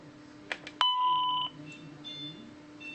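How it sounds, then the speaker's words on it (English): A couple of clicks, then a steady electronic alarm tone from an X10 SC1200 security system console sounds for about half a second at moderate volume over a quiet background hum. "activate the alarm and show you how the light flashes and how this sounds"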